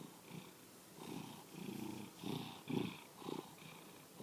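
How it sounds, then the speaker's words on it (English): A cat purring up close, soft rhythmic rumbling cycles rising and falling with each breath, about six pulses, quiet and alone. "That's his purr."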